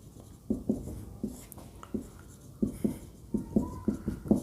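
Handwriting during a lesson, likely chalk on a board, produces a series of short, close tapping and scratching strokes in irregular bursts with brief pauses between.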